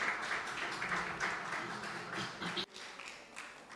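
An audience gives a conference presenter a round of applause in a quiet hall: a soft, steady patter of clapping from a moderately distant room that cuts off abruptly near the end.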